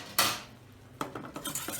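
A utensil stirs ground nutmeg into a butter-and-flour roux in a pan for moussaka, producing a sharp metallic scrape followed by several quick clinks and scrapes against the pan, close and fairly quiet.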